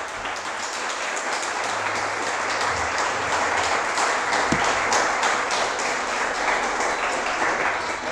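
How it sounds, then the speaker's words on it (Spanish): A congregation at a church service applauds for God, a steady sustained wash of many hands clapping at moderate distance with no voices breaking through. "¿Cuánto le dan un aplauso a Dios?"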